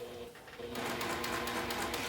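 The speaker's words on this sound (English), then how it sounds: "I'm going to lock in my stitches here." A home sewing machine stitches back and forth to lock in stitches on a crossbody bag seam with piping, its fast mechanical whir starting after a brief quiet moment and running steadily, close up.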